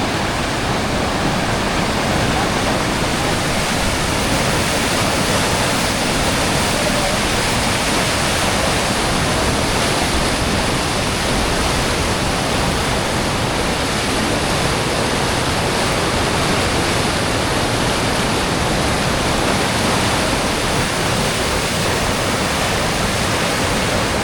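Loud, steady roar of rushing rapids on the Orange River, broadband and unbroken throughout with no voices.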